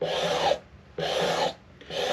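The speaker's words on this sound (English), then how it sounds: "So I'm still sanding, I'm still working on the shoulder right here." Rhythmic rasping strokes of sandpaper on the wooden neck of a 1937-style Martin D-18 guitar, three close, even passes with short pauses between them.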